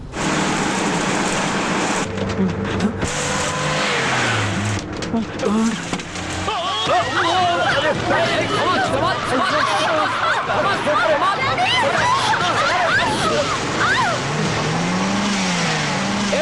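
A car being driven, its engine running steadily beneath close, loud conversation, with a brief tire squeal partway through.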